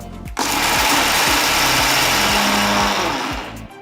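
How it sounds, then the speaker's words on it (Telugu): An electric mixer grinder grinding roasted podi ingredients into powder: a loud, close, high-pitched whirring motor starts abruptly, runs steadily for about three seconds, then winds down. "సో దీన్ని మనం బాగా ఫైన్ పౌడర్గా గ్రైండ్ చేసుకోవాలి."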